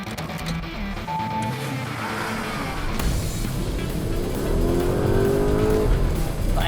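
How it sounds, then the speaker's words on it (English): A Lamborghini Urus with a 4-litre twin-turbo V8 drives on an Italian road, its engine note rising into a louder roar toward the end, with a rushing background and no talking. "The 4-liter twin-turbocharged V8 engine rumbled and roared to life."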